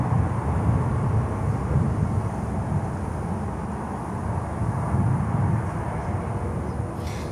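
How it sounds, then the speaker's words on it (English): An Amerijet Boeing 767-300 cargo jet arriving at Miami airport, a loud, steady broadband roar of engine noise with a deep rumble that holds throughout. "Let's see what they do with a Amerijet, the 767-300 that's currently coming in from Basseterre."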